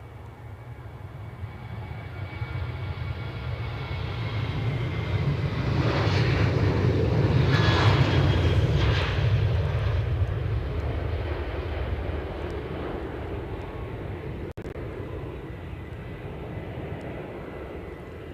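A Norwegian airliner takes off at Edinburgh Airport, and its engine roar swells from a distance to a broad peak near the middle, then slowly fades. It is heard from outdoors without talk.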